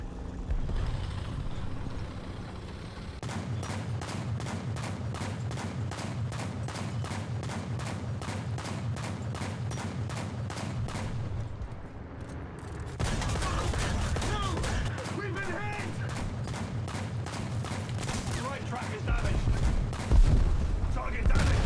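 Gunfire erupts in War Thunder, a World War II-era vehicle combat game, as rapid repeated shots and bursts rattle almost continuously against a loud engine rumble, with a short lull midway before heavier firing resumes.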